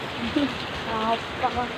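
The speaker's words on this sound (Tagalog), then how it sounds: "napaka-ulan sa amin. Ulan na." Rain pouring during a storm, a steady hiss of falling drops with a faint voice briefly audible underneath.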